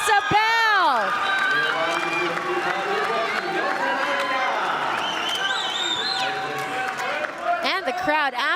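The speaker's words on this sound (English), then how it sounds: "The crowd absolutely loving what they're seeing here" Crowd cheering and roaring in an arena during a women's Olympic qualification volleyball match between Dominican Republic and Korea, a sustained loud crowd swell with shouts and whistles beneath a commentator's voice.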